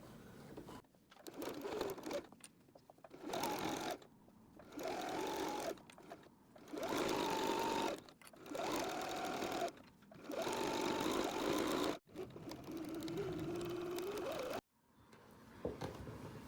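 A sewing machine stitches the seam of a quilted cat pillow in several steady whirring runs, each a few seconds long with brief pauses between, close and clear with no talking.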